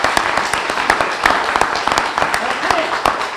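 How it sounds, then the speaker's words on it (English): A small audience at a town candidates forum claps for a speaker, scattered distinct hand claps in a brief, uneven round at moderate distance, with some voices mixed in. "So let's have a round of applause for Peter."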